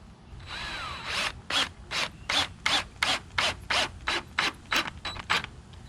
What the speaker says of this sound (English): I'm just going to screw this on here.